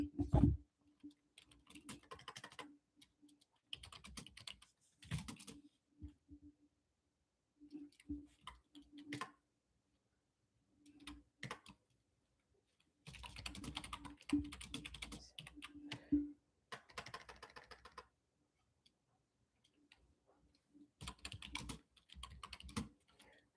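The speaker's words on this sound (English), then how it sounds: "I'm going to go ahead and type in here" Typing on a computer keyboard, close clicky keystrokes in scattered bursts separated by pauses, with a faint steady hum underneath.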